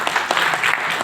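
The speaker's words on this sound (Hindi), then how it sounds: "ताली बजा दो बंदे के लिए" Audience at a Dahua roadshow training session applauds, a dense, steady wash of clapping filling the whole short moment at moderate loudness, with no speech over it.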